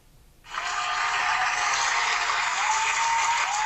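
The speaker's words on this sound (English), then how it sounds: "Please hold your applause." A burst of applause starts suddenly and keeps up as a dense, even wash of clapping for a few seconds.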